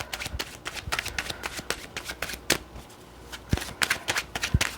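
A deck of tarot cards is shuffled during a reading, with soft riffling and repeated quick slaps of cards in uneven bursts, close and fairly quiet, and no one speaking.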